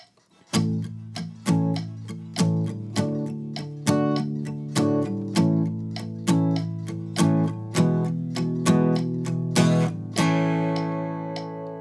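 Steady guitar strums repeat in a regular pattern over a metronome at 100 BPM, ringing chords with crisp attacks, then a final chord left to sustain.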